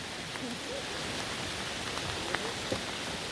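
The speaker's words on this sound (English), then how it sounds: "We're getting some rain, finally." Steady rain falls outdoors on a property, a soft even hiss of drops with a few sharper patters, moderately close, with faint voices barely present underneath.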